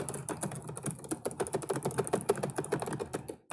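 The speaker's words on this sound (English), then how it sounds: "Simply, I am typing this one." Rapid, irregular keystrokes on a computer keyboard clatter steadily for several seconds in a quiet room with no voice, each tap distinct and close, stopping abruptly near the end.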